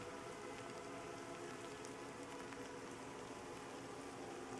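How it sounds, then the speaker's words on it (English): Steady rain falling in the fantasy MMO Pantheon, a dense, even hiss of drops on surfaces filling the whole clip at constant level, with no voices. "You can see the fog rising on the top right, almost like a mist,"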